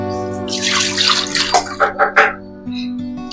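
Fish and greens are washed in a sink under a running tap, a loud close gush of water with a few splashing surges before the flow settles into a thinner, steadier stream.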